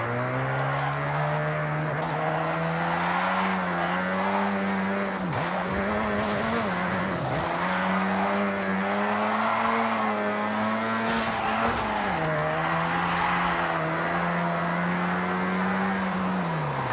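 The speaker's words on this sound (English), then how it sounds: "Mazda loves to slide." A Mazda sliding sideways in the racing game Forza Horizon, its engine droning and wavering as the tires squeal through long drifts, loud and continuous with brief dips where the revs fall and climb again.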